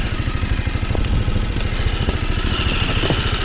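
An Arctic Cat Alterra 600 ATV engine idles close by, a steady, loud rumbling throb with even pulsing and no talk.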